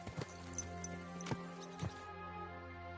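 Horse hooves clip-clopping in the medieval video game Kingdom Come II, a few distinct hoof knocks over a steady low game ambience, fairly quiet.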